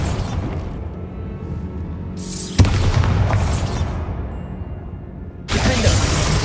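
Bombarda blasting spell explosions in Hogwarts Legacy: a sharp, loud boom at about two and a half seconds followed by rumbling debris, then a second burst near the end, over continuous game ambience.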